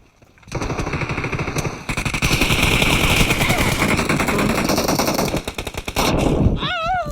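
Video game match with gunfire and bombs, loud close bursts of rapid automatic fire running almost continuously with a few heavier blasts, ending with electronic warbling tones.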